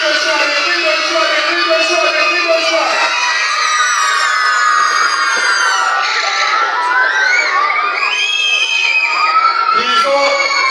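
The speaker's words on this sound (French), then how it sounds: "Les enfants, on crie, on se lève, on se lève." Crowd of schoolchildren shouting and cheering loudly and continuously at a school prize-giving ceremony, a dense wall of high-pitched voices with rising screams throughout.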